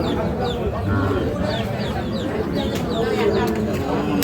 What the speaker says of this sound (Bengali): হাটত মুরগি এসেছে কোনটা দেখি ফের বাচ্চা সহ